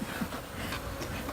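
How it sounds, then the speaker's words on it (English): Honeybees arriving in a new hive, a soft, steady buzzing drone with faint scattered individual buzzes, close by and alone without talk. "This is gonna be Kraz's bees."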